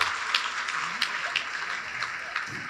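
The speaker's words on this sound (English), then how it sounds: "Please, can you clap for please clap for yourself." Applause from the audience at a fellowship conferment ceremony, a steady, fairly soft patter of many hands clapping at a distance, holding level throughout.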